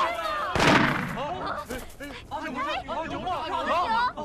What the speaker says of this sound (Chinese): 谁在开枪？